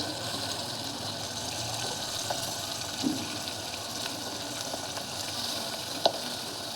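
Soft, steady sizzle of tomato, potato and beans frying with onions in oil for vegetable biryani, a quiet continuous hiss with a couple of faint clinks of stirring.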